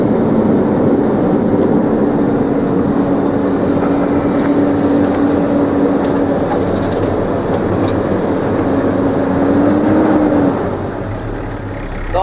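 A truck engine held at raised revs inside the cab fills the air brake tanks, a steady loud droning rumble with a faint rising whine that drops off near the end.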